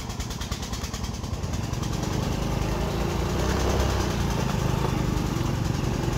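A Vietnamese push-type farm tractor hauls a load of bamboo up a slope, its engine chugging in a rapid, steady rhythm that grows slightly louder and stays constant throughout, fairly close by.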